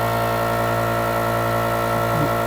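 An air compressor runs steadily throughout, a constant close mechanical drone with a low hum and no pauses.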